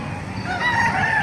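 Several gamecock roosters, including Kelsos, crow at once at a Bocaue, Bulacan poultry market, overlapping calls close by against a noisy outdoor background, very brief.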